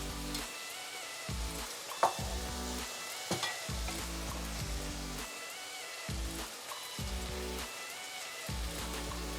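Cumin and coriander powder, garam masala and salt fry in a pan with tindora, a dense steady sizzle with regular stirring scrapes and a few clinks, close up and without speech.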